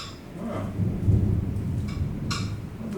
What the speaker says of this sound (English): There was this massive strike of lightning